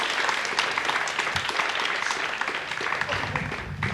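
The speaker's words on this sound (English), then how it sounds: "The good news, the applause." Applause in an Ariane launch control room after the INTELSAT 906 satellite separates, a few seconds of continuous clapping from a group, fairly close and even, with little talk.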